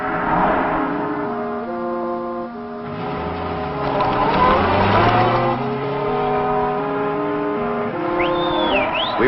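Stolen car driven toward the Mexican border, its engine revving up and down through stepped shifts in pitch, moderately close and sustained, ending with a brief squeal.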